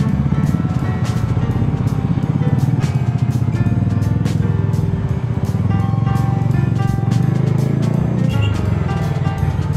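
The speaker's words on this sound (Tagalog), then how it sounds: "Kanina pa traffic dito eh, no?" Busy road traffic in Obando, with cars and motorcycles passing steadily, engines droning and a few revving by up close, a continuous loud mix with faint voices in the background.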